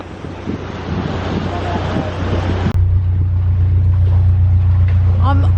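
Strong water flow rushing at Grindley Brook canal lock against a narrowboat, a loud broadband surge that gives way abruptly to a steady low engine hum with wind buffeting.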